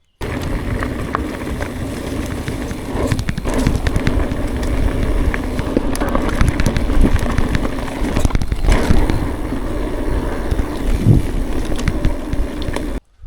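Strong gusts roar across an exposed rocky viewpoint in the Vosges, a steady, loud rumbling buffet on the microphone lasting the whole stretch with brief lulls.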